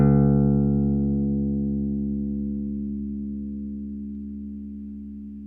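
A bass guitar plucks one low note on the third string that rings alone and decays slowly over several seconds, warm and close.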